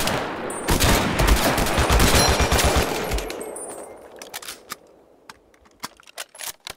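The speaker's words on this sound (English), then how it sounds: "Suppressing fire." Suppressing gunfire from the video game Mud and Blood: dense, rapid rifle and machine-gun bursts roar for about three seconds, then thin into scattered sharp shots and clicks before quiet.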